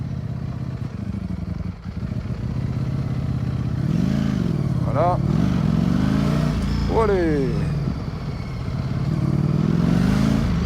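A Ducati Streetfighter V4S, a 208 hp sport bike, rumbles through city traffic from the rider's seat, its engine rising in two short revs over steady road and wind noise while the rider speaks briefly in French.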